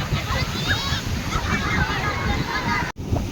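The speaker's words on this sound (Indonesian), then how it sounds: "Anginnya besar, ombaknya juga besar." Big ocean waves and strong wind at Drini beach, a steady, loud wash of surf with gusty noise, while bird-like honks and distant voices sit faintly on top.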